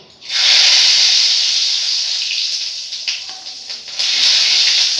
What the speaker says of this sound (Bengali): আর দিচ্ছি জিরে